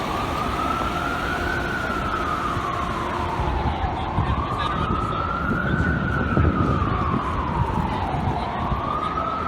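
NYPD police car sirens wail in long, slow rising and falling sweeps in New York City, loud and continuous, with a low rumble of traffic underneath.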